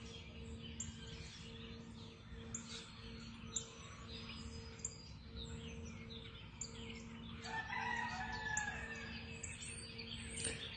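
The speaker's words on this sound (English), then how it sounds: "that rooster is definitely wide awake" A rooster crows outdoors at sunrise on a farm, a moderate call over steady background hum with small birds chirping throughout; a louder burst of calling rises near the end.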